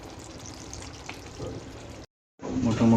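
Mutton bhuna sizzles in a pan with garlic just added, a steady broadband hiss that cuts out briefly, then returns louder and closer.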